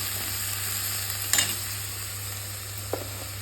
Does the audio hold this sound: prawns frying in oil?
yes